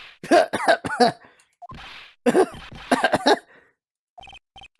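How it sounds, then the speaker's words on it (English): A series of harsh, bursting coughs in Phoenix Wright: Trials and Tribulations comes in two clusters, close and loud, followed by short beeping tones. "Just try not to give me that cough of yours"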